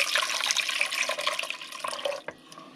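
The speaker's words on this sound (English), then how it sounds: "I then add in 2 cups of chicken broth and 2 cups of water." Chicken broth and water are poured into a Dutch oven, giving a close, bright, splashing liquid stream that runs steadily before tapering off into a few final drips and a short clunk.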